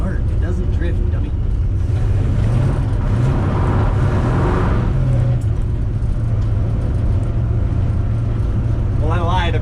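Dodge Dart car engine droning loudly and continuously while the car drifts, with tire and road noise, as people talk excitedly over it.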